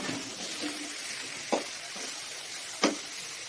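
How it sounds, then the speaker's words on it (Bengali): Lentils fry in oil in a pan over medium heat, a faint continuous sizzle with a couple of sharp stirring knocks from a utensil, no talking. "তারপর ডালগুলোকে একটু ভাজা ভাজা করবো"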